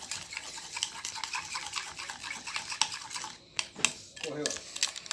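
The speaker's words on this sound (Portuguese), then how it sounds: "Tem que mexer." A spoon stirs a pineapple and strawberry dessert mixture in a bowl, giving a steady run of wet scraping and light clinking close up, then a few sharper knocks against the container near the end.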